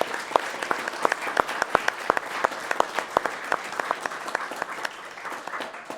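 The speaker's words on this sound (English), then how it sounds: "let's give everybody a round of applause" An audience breaks into applause at the RPG Limit Break 2022 finale, a close, steady patter of many hands clapping with sharp individual claps standing out.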